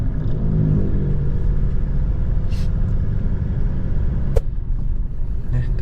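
A Mitsubishi Strada pickup with a full exhaust driving along, giving a steady, deep rumbling engine drone with a brief click partway through.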